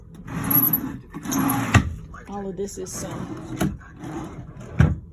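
A drawer in a cruise ship cabin slides open and bumps shut with wooden rubbing and clunks, heard close up beneath a person talking.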